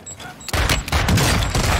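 Rapid pistol gunfire from akimbo Basilisk Snakeshot pistols in Warzone 2, a loud dense burst of shots with booming impacts that starts abruptly and continues throughout, with faint game background before.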